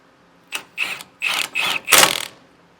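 A ratchet drives self-tapping screws while mounting a leaf spring kit on a 2015 Keystone Raptor trailer, giving five close, sharp bursts of fast ratcheting clicks with short pauses between them.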